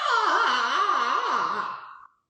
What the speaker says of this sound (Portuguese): vocês façam um bocejo bem grande